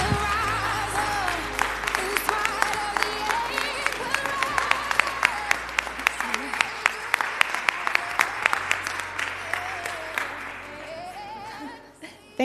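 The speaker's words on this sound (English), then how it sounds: "let's give a round of applause for Dessa Cosma" Audience at a human rights awards ceremony gives a round of applause for an honoree, steady close clapping with sharp individual claps over a low hum, fading out near the end.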